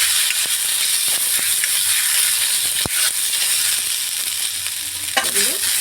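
Chilli shrimp frying in a pan with black pepper and spices, a steady loud sizzle throughout, broken by a few scraping stirs and a faint clink near the end.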